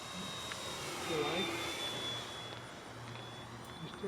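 Radio-controlled model airplane flying at a distance, a thin steady high electric motor whine over faint outdoor wind and rumble, quiet and continuous throughout.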